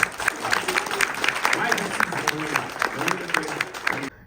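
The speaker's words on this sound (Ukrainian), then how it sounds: "Ну тут такі бурхливі оплески для всіх наших фіналістів." Dense applause from a large audience for the finalists of Ukraine's 2024 Eurovision national selection, steady and loud, with a voice talking over it throughout before it cuts off abruptly.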